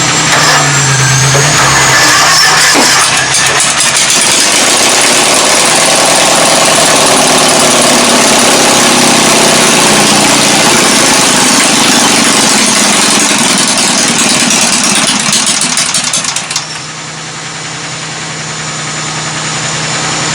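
A Kohler 18hp 691cc opposed-twin engine on a 1997 Craftsman GT 6000 runs loud and close with a steady, vibrating drone, then drops abruptly and settles into a quieter, rising hum near the end.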